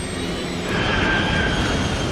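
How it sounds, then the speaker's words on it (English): A 100-ton jet airliner screams low in a dive, a loud, continuous roaring rush that swells slightly and stays dense and close throughout. "The 100-ton jet screams lower and lower."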